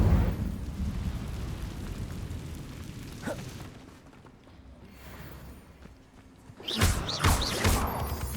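The Incendio fire spell goes off in Hogwarts Legacy as a rumbling, roaring whoosh that fades into quiet, followed by a second sharp burst of crackling, flaring energy.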